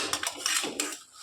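Roasted black pepper tipped from a hot pan into another pot, giving a quick scatter of dry peppercorns rattling against metal in a few short bursts, close and fairly loud, with no talking.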